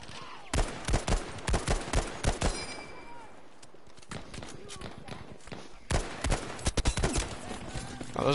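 Rifle and machine-gun fire in the Battlefield V shooter, among them an M1 Garand and a Browning M1919: loud, sharp bursts of shots in two clusters around a quieter middle stretch, with some talk mixed in.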